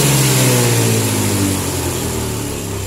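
Engine of a Honda Beat scooter revved hard, a loud, close, steady whine that holds high and then eases down slightly, with no talk over it.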